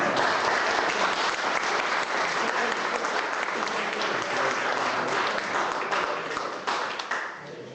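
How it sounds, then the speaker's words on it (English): An audience applauds loudly and steadily at a talk, a dense wash of clapping that tapers off near the end. "could I have another round of applause for John?"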